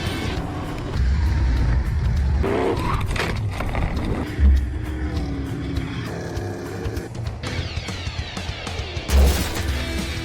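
NASCAR stock cars race side by side in the Elite 2 final at the 2019 Belgium round, loud roaring engines passing close with heavy bursts and thumps of contact, no voices heard.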